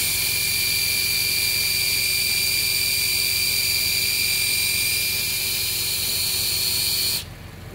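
CVT fluid is pumped into the transmission of a 2011 Subaru Outback. A loud, steady mechanical whir and hiss with a thin whine runs unbroken, then cuts off abruptly near the end.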